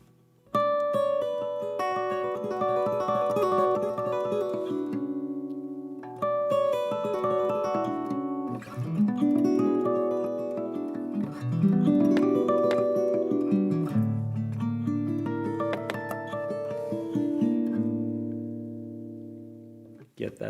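Electric guitar harmonics and pull-offs played with added reverb, giving bell-like ringing chimes and sustained note runs that blend into a continuous, fairly loud wash.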